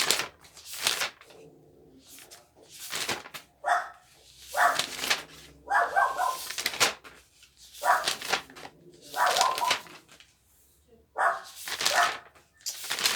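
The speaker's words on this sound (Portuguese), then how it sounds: "Eita, que a cachorrinha tá latindo. Latindo muito." A small female dog barks repeatedly in bursts, loud and close, with short pauses between volleys.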